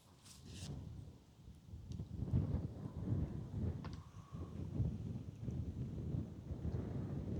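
Wind gusts buffet the microphone beside the River Trent, a low rumbling roar that swells and eases in uneven surges, with a few faint knocks and no talk.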